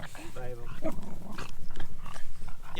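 Dogs playing together at a lakeside spot in northern Sweden, with close snuffling, scuffling and low playful growls mixed under people talking.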